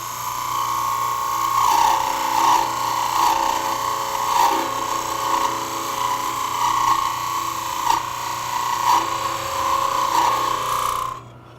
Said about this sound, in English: I can use it in conjunction with the parting tool to establish the correct diameter